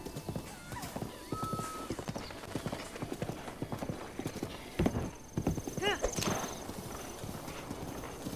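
A horse gallops with rapid rhythmic clip-clop hooves and a brief whinny in a Nintendo Switch game featuring bokoblins, heard under a person talking.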